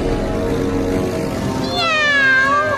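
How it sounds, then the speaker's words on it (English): A cartoon cat meows in a long, drawn-out yowl, loud and close, its pitch sliding upward and then gliding down toward the end. "It sounded just like a cat."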